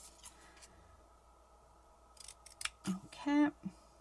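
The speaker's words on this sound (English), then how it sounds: "we're just gonna go and cut into them." Scissors snip through scrapbook paper cards in a few short, crisp cuts near the end, close and quiet, with a voice speaking at times.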